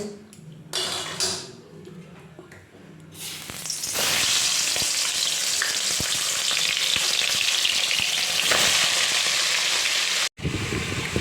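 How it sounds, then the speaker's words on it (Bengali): Pomfret fish drop into hot oil and erupt into a loud, steady sizzle that fills the space, with a few faint clinks of utensils. "এখন তেল গরম হয়ে গেছে এবার মাছগুলো দিয়ে দিই মাছগুলো ভেজে নিয়ে"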